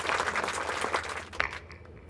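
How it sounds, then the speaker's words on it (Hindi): Audience applause at a Hindi kavi sammelan comedy poetry event, a dense, steady wash of clapping for about a second and a half that ends in a final sharp clap and then fades quickly. "5-7 लोग ताली बजाओ"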